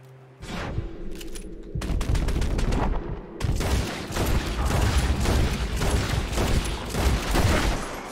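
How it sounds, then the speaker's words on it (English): Rapid gunfire from a Red Dead Redemption 2 gameplay sequence, loud and dense volleys of shots that go on throughout with a brief lull partway, several bursts packed close together. "He just got shot in the face 3 times"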